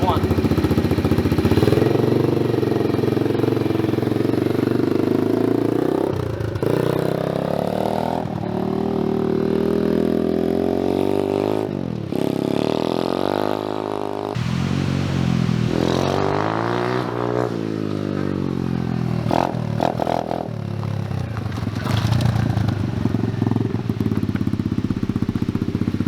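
A cheap Amazon adult dirt bike's small engine revs and shifts through the gears while riding, its pitch rising and falling in repeated surges, loud and continuous with a voice talking over it.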